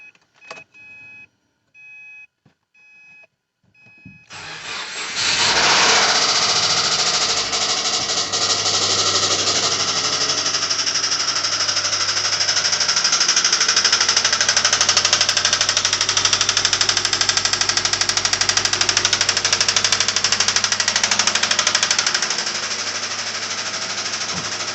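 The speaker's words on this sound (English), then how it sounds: "there is some bottom end concerns with these engines, and that's what this one has" A Subaru boxer engine starts after a few brief sputters and runs steadily and loudly, with a harsh bottom-end knock clattering through its idle.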